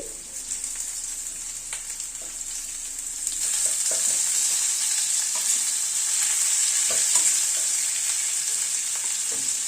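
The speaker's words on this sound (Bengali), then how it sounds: "পেঁয়াজটাকে দিয়ে আলুর সাথে পেঁয়াজটা ভেজে নেব।" Onion frying together with potatoes in a pan, a continuous hiss that grows fuller and louder partway through, with scattered stirring scrapes and taps, close by and no talking.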